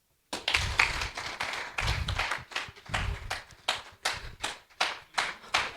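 A roomful of senators at a Junior Chamber awards event clap together, a ragged burst of hand claps that thins into scattered, separate claps toward the end.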